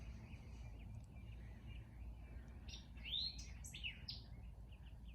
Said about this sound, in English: But you can hear the birds better.